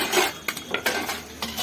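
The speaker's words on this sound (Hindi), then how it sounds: "बर्तन धो रही है।" Dishes and utensils being washed outdoors after a home-cooked mutton biryani meal, with steady water and scrubbing noise punctuated by several clinks of metal cutlery and pots, close and moderately loud.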